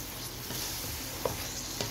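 Potatoes and eggplant stir-fry with spices in a pan, giving a continuous soft sizzle broken by a couple of quick spatula scrapes.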